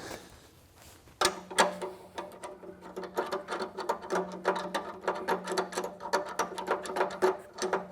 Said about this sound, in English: take the big end of the wrench, get nice secure tug.